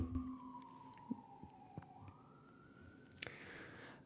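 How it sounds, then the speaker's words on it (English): A distant siren wails, its pitch gliding down then back up, faint under quiet background noise with a few soft knocks. "Sirens."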